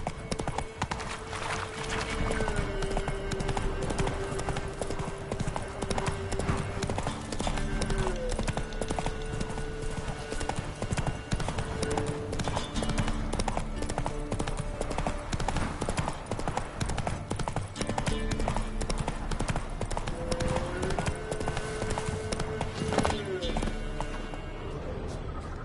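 Steady clip-clop of horse hooves at a trot in The Witcher 3, the rhythmic beat running throughout under game music and spoken character dialogue.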